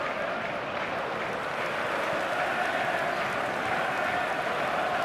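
A stadium crowd in the eFootball 2026 football game, Liverpool against Leeds United, makes a steady, dense roar of cheering and murmuring that holds at an even level without distinct peaks.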